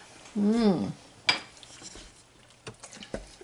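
An Instant Pot lid is pulled open after the pressure is released, with chili of dried chiles and hand-cut beef inside: a short wavering tonal sound, then a sharp metallic clink and a few light clatters close by.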